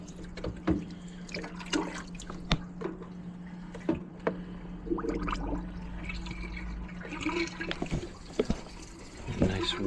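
Sludgy water drains from a sink with gurgling, sloshing and scattered drips over a steady low hum, close and moderately loud.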